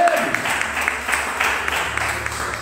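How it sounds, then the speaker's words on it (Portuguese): Congregation applauding at a Portuguese-language miracle worship service, a steady dense patter of many hands filling the church at moderate loudness, with a faint voice briefly at the start. "Você pode aplaudir a Ele."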